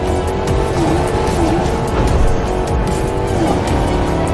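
A video game car drives with a steady, loud engine drone and wavering tire squeal that rises and falls throughout, continuous and close, with no talking over it.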